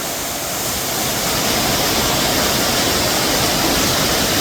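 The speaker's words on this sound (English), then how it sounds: "Crystal clear water coming out of the top." Steady, full rush of crystal clear spring water pouring out nonstop, a dense broadband roar close by with no voices.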